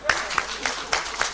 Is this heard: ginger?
no